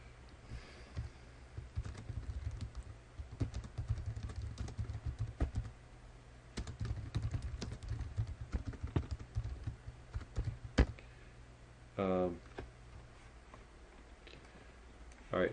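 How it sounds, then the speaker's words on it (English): Fast, irregular typing on a computer keyboard, close and steady with clustered key clicks and a few louder taps, a brief pause near the end, no one speaking. "I've been typing and not talking"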